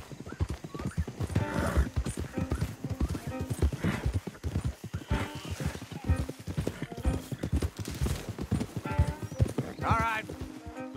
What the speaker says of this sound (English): Don't want the horses clopping around outside the window.